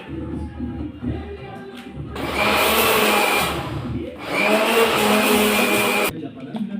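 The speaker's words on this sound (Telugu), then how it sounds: "మిక్సీ జార్లు అలా వేసుకుని గ్రైండ్ చేసుకోవాలి" A kitchen mixer grinder runs in two pulses of a few seconds each, loud and close, with a high whirring roar as it grinds roasted flour and jaggery for sunnundalu. Quieter stretches and light background sound come before, between and after the pulses.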